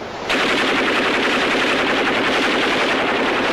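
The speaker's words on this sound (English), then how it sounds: "The rapid-fire gun is a Bowfin's gun." A rapid-fire deck gun aboard the USS Bowfin submarine fires a continuous, dense stream of shots that starts abruptly and stays loud and steady throughout, with no voices over it.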